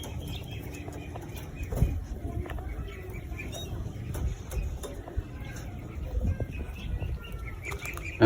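Young racing pigeons moving in a flyers loft, with soft wing flaps, shuffling and scattered faint chirps over a low rustling background, and a person talking in between.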